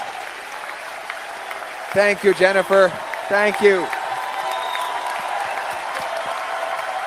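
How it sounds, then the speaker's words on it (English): An audience at a stage event claps in a steady round of applause that continues under someone speaking briefly into a microphone. "a big round of applause"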